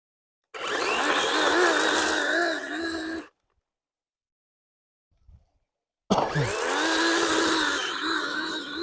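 A DeWalt electric chainsaw cuts into a Bradford pear tree, whining loudly for about three seconds under a wavering load. It stops to near silence with a faint knock, then starts again close by.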